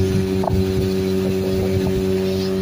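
A motorboat engine drones steadily on a reservoir, a constant low hum with light wind buffeting and small splashes.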